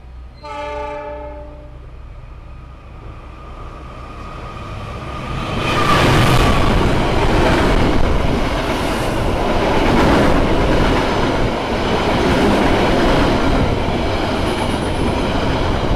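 On board the Pangandaran passenger train, a loud horn blast opens, then the rumble and clickety-clack of the moving train build and stay loud and continuous.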